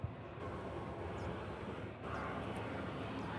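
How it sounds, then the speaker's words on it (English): A Boeing 777 airliner flies overhead as a steady, broad jet roar that holds at an even level throughout, with a brief dip in the middle. "It's the 777 today."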